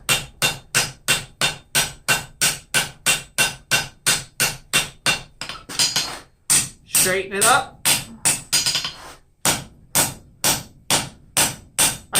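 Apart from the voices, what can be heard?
hammer forging railroad spike tongs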